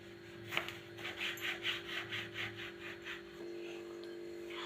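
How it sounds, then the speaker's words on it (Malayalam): A tomato is chopped with a knife, giving about ten soft, evenly spaced slicing strokes, close but faint, followed by a quieter steady background. "ഇനി തക്കാളി അരിയാം."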